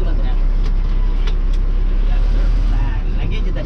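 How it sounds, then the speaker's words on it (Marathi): A KSRTC bus pulls away from the Bhatkal bus stand on NH-66, Mangalore to Karwar route. Its engine makes a steady, close, loud rumble throughout, with faint indistinct voices mixed in. "10 मिनिटाचा ब्रेक कंप्लीट करून गाडी निघाली आहे भटकळ या बसस्टँडवरून"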